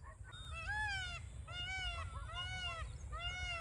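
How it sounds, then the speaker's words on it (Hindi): A peacock in a field gives repeated loud, nasal honking calls in bursts, fairly close, over a steady low background rumble. "गाइस सामने मोर कर रहा प्यों प्यों, वो बैठा"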